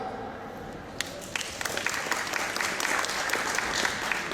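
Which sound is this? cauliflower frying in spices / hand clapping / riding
hand clapping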